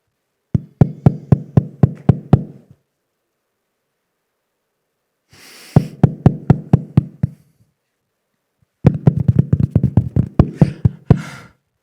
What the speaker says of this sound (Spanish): Pedro llamando a la puerta del patio.